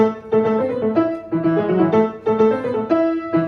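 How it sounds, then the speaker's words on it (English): Virtuosic classical music for Paganini's 24th Caprice, played live at a lecture-recital: quick articulated melodic runs with strong harmonic notes and repeated rhythmic figures, steady and fairly loud with no talking. "Paganini's music can be so athletic, like this 24th Caprice."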